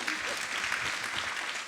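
Studio audience applauding on a live talk show, a steady dense wash of clapping that holds evenly for a couple of seconds with no one speaking over it.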